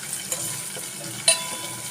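Vegetables frying in a pan for a jowar-flour bun dosa, a steady soft sizzle throughout with light stirring scrapes and a brief clink near the end.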